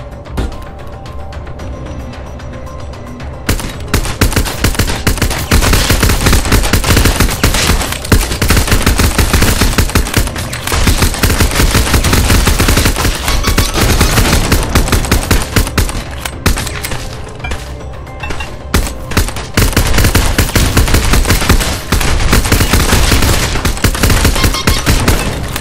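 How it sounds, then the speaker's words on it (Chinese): Near-continuous bursts of automatic gunfire ring out in a zombie-invasion resort shooting game, loud and dense, with rapid volleys running almost unbroken after a quieter opening. "开枪的时候声音会比较大一点。"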